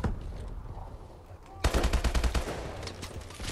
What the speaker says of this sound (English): Oh shit, he's taking shots at me.